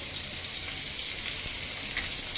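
Chicken masala for Gondhoraj chicken fries and is stirred in a pan on a high gas flame, giving a loud, continuous sizzle with a hissing wash and faint stirring scrapes, close, with no talking.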